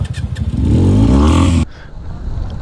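A Benelli 300 motorcycle on a group ride revs loud and close, its engine note climbing for about a second and a half before cutting off abruptly to a quieter background.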